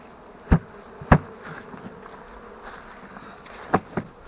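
Honey bees from a swarm shaken out in front of a beehive, a soft buzzing hum broken by a few sharp knocks and thumps of the frame against the hive.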